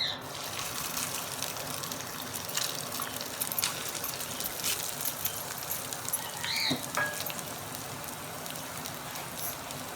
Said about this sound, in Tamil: எண்ணெய் சூடானதுக்கப்புறம் நம்ம துருவி வச்சுருக்க தேங்காவை இதில் சேர்த்துடலாம்.